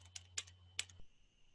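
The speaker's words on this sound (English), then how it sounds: "I'm just typing in a calculator" Keys tapped on a calculator, a handful of light plastic clicks at uneven intervals over a faint low hum, quiet and close.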